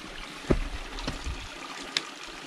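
A mountain stream flows beside a hiking trail on Mount Sumbing via the Butuh Kaliangkrik route. Its steady, close rush of water carries a few sharp knocks and thumps, with no talking.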